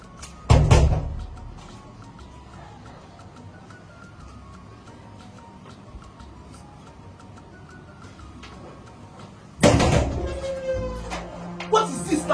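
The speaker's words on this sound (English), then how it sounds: "Please close the door." A door in a hotel room being shut: a loud thud early on, a long stretch of quiet room tone, then another heavy bang followed by rattling and clattering.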